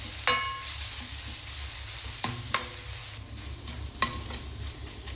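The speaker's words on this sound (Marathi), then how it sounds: "हे छान मिक्स करायचं आहे." A spoon stirs a carrot stir-fry in a pan as chili powder and salt are mixed in, with a low sizzle underneath and a few sharp scraping clinks against the pan, heard up close and fairly quiet.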